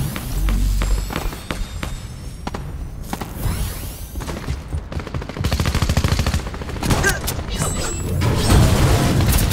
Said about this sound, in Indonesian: Ada orang tembak aku tu.